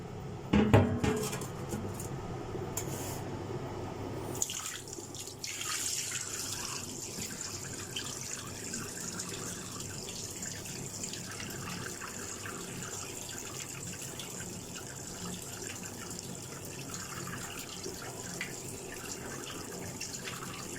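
Cooked sago pearls are rinsed under a running kitchen tap, with dishes clinking and a rattle at first, then a steady hiss of flowing water that continues to the end.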